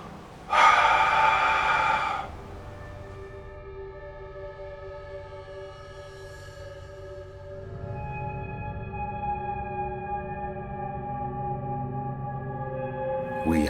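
A voice imitates breathing heard in the main tunnel of Drop Battery: one loud, breathy gasp near the start, followed by a quieter sustained tonal hum that rises slightly later on.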